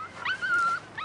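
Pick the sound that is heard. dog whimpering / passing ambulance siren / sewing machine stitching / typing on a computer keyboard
dog whimpering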